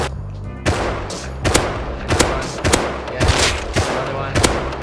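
Rapid gunfire rings out in the Rust video game, several sharp loud bursts of shots spaced about a second apart over a steady low background rumble.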